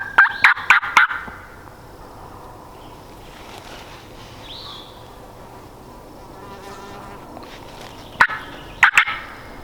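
A wild Rio Grande longbeard turkey gobbles from a distance in Oregon elk country. A rapid burst opens the clip and two more rattling gobbles come near the end, over a buzzing insect background.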